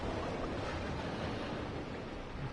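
Constant rushing water in a video game level, a dense steady wash of flowing water with a low rumble, moderately loud and unbroken, no voices.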